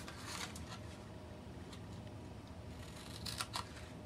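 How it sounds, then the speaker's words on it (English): Scissors snip through scored paper while a Stampin' Up flip-top treat box is made, giving faint close cuts, a few early and a quick cluster near the end over a quiet background. "we're just going to cut up all these marks, all these score marks"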